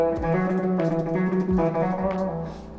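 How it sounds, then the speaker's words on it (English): Dean Flying V electric guitar with hot Seymour Duncan pickups played through a kill switch, a loud distorted tone chopped into rapid stuttering bursts with sharp on-off cuts throughout. "It sounds like this, the kill switch."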